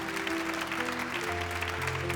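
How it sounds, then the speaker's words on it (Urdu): Steady applause from a crowd fills the whole stretch, with a low hum running underneath. "زوردار تالیاں"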